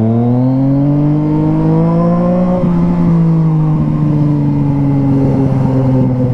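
A Yamaha MT-09 motorcycle rides along wet Brazilian streets, its engine note loud and close, a rich harmonic drone climbing in pitch, dipping at a gear change, then settling into a steady cruise with wind noise underneath.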